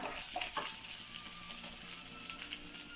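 Onions sizzling loudly in a hot pan, a dense continuous crackle up close with a few stirring scrapes near the start and no talk.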